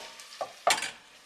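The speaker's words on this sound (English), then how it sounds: "There's a beautiful odor coming out of here now. The garlic and anchovies. Starting to cook." Garlic and anchovies cooking in a pan give a brief sizzle, with a soft stirring scrape and then a louder burst of frying crackle that slowly fades, close and alone.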